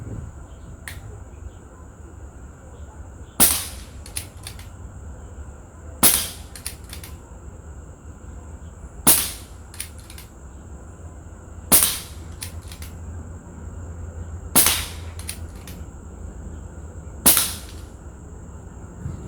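Six sharp shots from a PCP air rifle, evenly spaced about every three seconds against a steady insect-like hum, each crack close and crisp with a short tail, no talking.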